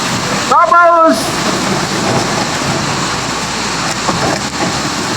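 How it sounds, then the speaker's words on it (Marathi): Heavy downpour drums steadily in a village, a close, even wash of rain noise, with a short spoken voice rising over it early on. "अरे पाऊस, हा पाऊस."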